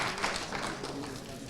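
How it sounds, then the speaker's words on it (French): An audience claps at a closing awards ceremony, a dense patter of hands heard for a brief stretch at moderate distance. "Donc, on applaudit, s'il vous plaît."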